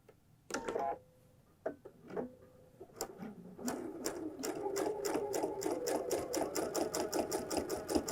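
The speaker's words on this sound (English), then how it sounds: "So stitching right close to that stitching line, but on the binding." A sewing machine stitches binding along a Hong Kong seam, starting with a few short hesitant bursts and then settling into a steady, rapid, close mechanical clatter of stitches, with no talking.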